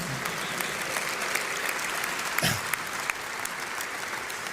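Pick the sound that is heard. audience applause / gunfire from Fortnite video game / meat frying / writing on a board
audience applause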